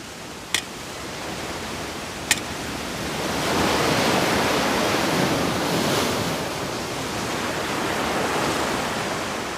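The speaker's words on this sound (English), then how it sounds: "That's because the water's really rough." Rough Pacific Ocean surf on a desert coastline, a loud continuous roar of breaking waves that swells and recedes, with two sharp brief clicks near the start and no voices.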